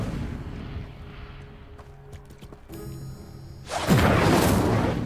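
A fire spell flares up in the Hogwarts Legacy video game, a loud roaring whoosh of flame bursting out near the end over a quieter bed of game sounds and clicks.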